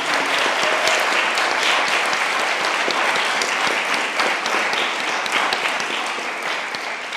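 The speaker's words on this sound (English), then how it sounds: "let's clap it up for our panelists again." Audience at a panel discussion on incarcerating children and the elderly giving the panelists a loud, dense round of applause, continuous and full for several seconds before easing slightly at the end.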